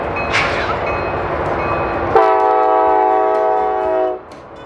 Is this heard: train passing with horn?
yes